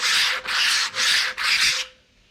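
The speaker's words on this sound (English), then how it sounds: "Line up my straight edge to where it needs to be, there and there, and then we can just rub that one way" Four long, even rubbing strokes along a straight edge, close and steady like sanding, each stroke separated by a brief pause before the last one fades out.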